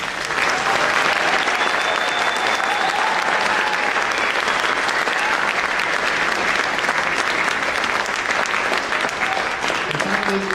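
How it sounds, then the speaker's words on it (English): Audience clapping steadily for student musicians at a spring school band concert, a full, even wash of applause that holds for about ten seconds. "Can we please give them a round of applause?"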